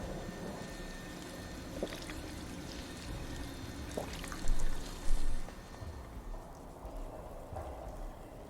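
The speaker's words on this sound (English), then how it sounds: "the water fountain's in here somewhere too, isn't it?" A water fountain pours steadily inside a Fallout 4 game location, a continuous splashing wash that stays moderately loud throughout with a couple of brief louder surges midway and no talk.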